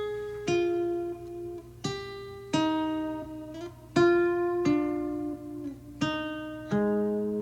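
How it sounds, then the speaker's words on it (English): Lofi electric guitar processed with tape-machine warmth, wobble and reverb plays slow chords, about six gentle strums spaced evenly, each ringing out with a soft warbling sustain, close and alone. "here's what this guitar sounds like after I put the effects on it."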